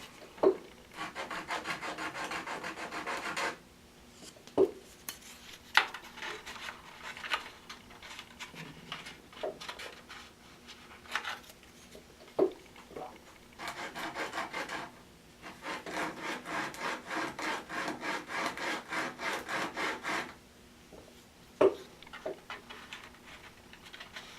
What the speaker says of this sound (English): So sand down just a little bit there until that's just perfect